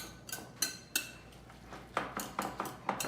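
A whisk beating eggs with meat and vegetables in a container, close and sharp, giving a string of clicking, scraping strokes against the sides in irregular bursts, with no talking.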